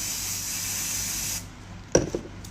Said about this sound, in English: use a hairspray to create that texture